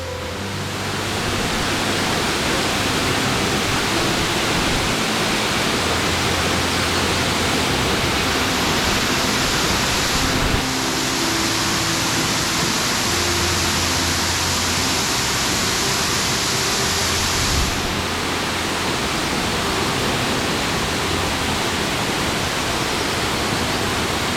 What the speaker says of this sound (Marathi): आणि हा राहिला तो सुंदर धबधबा.